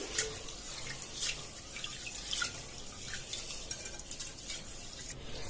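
Rice being washed by hand in water in a home kitchen, with soft irregular sloshing and dripping, quiet and close, no voices.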